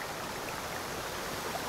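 River current carrying a raft in the video game Sumoman, a steady, even rush of flowing water with no breaks, moderately quiet and continuous throughout.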